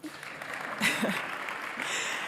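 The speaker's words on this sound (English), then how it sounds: "please welcome, with a big round of applause" Audience applause welcoming youth and nonprofit leaders as panelists at a scouting innovation forum, a brief moderate wash of clapping that swells slightly near the end.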